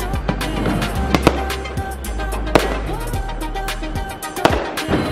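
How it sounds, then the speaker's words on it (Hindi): Firecrackers bursting during a Diwali celebration outdoors in Ahmedabad, sharp scattered bangs at irregular intervals over a dense crackling crowd din, some close and loud, others farther off. "बहुत ही धमाकेदार सेलिब्रेशन हो रहा है, पॉल्यूशन काफ़ी ज़्यादा है और पटाखे जलाए जा रहे हैं।"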